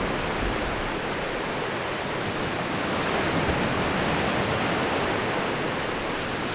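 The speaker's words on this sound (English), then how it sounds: "I awoke staring at this ocean." Ocean waves wash in a steady, unbroken roar of surf that stays moderately loud and fairly even throughout, with no voices present.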